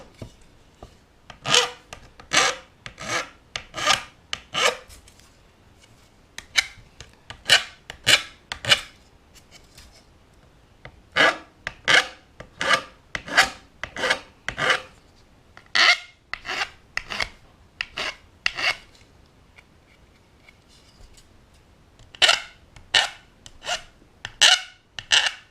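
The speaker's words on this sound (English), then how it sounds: "So I'm going to round over this edge, round over this edge, as well as this edge." Repeated rasping strokes while rounding over the edge of a wooden shelf for a reptile enclosure. Quick scraping passes come in bursts of four to six, with short pauses between, close and fairly loud.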